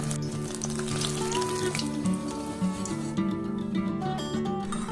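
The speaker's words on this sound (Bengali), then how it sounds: "মাশরুম এক একটা ব্যাটারের মধ্যে ডুবিয়ে নিয়ে তেলে ছেড়ে দিচ্ছি মিডিয়াম ফ্লেমে মাশরুমগুলো ভেজে নেব" Batter-coated mushrooms deep-frying in refined oil over a medium flame, a continuous close sizzle and crackle with small bubbling pops throughout.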